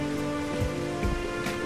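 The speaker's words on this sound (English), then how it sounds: "coming down and raining water upon down into the underground lake" Water raining down into an underground lake in the video game Dig or Die, a steady patter of falling drops with a few louder splashes over a constant droning game background.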